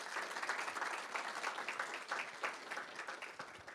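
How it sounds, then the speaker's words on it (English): Audience at a hackathon applauding a team: a steady, distant wash of many hands clapping throughout, fairly faint and even, with no speech over it. "Applause for them"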